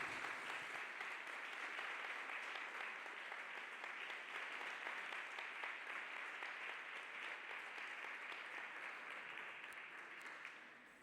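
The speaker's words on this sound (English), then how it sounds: "Continue to clap hands for Jesus Christ." A congregation at a church service claps continuously, a dense, steady wash of many hands that holds evenly throughout and tapers slightly at the very end, with no talking over it.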